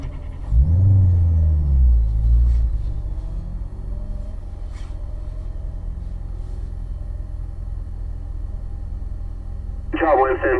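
A car on a timed exercise run around a track, engine rumbling and revving loudly near the start, then settling into a steady drone, with a higher-pitched tone near the end and a person talking over it.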